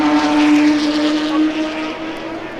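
At the 1964 Le Mans race, Ferrari and Ford GT race cars roar away together in a loud, sustained engine drone that fades slightly as they pull into the distance.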